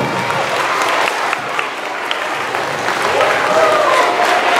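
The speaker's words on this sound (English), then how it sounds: "A big round of applause for Miss Miller, guys." A live show audience applauds Miss Miller in a steady, full wash of clapping that holds for the whole stretch, close and even with faint voices underneath.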